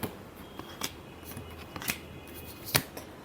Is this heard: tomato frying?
no